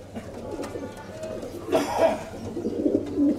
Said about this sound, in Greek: Πάμε να τα δούμε και λίγο μέσα στα πουλάκια.